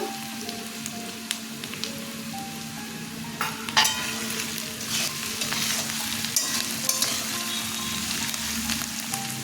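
Close, continuous sizzle of chopped onion and green chilies frying in a pan for flattened-rice pulao, with clattering stirring strokes scattered throughout.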